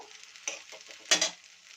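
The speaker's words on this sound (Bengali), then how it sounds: "তো মশলাগুলোকে ভালো করে ফ্রাই করে নেব।" Spices with ginger, garlic and tomato frying in a pan for a catfish curry, a soft sizzle broken by two sharp scraping stirs.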